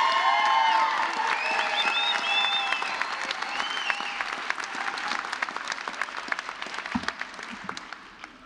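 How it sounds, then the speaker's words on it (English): Graduation audience at an adult high school equivalency ceremony bursts into applause with whoops and whistles at the start, the clapping staying loud before slowly thinning into scattered claps. "Let's give all our speakers a big round of applause."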